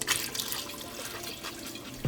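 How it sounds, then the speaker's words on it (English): Water is poured into a simmering stew for jollof rice, making a soft, close trickling and dripping for about two seconds with a small splash at the end and no talking. "we just wanna add a little bit of water in there"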